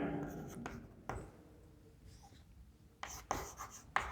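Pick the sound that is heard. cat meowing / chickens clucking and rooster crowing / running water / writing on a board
writing on a board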